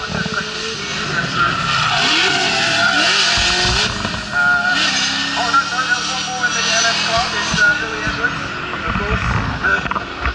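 A drift car at Tunerfest 2024 slides with screeching tire squeal over a roaring engine, surging and easing in waves, while a commentator talks over the action.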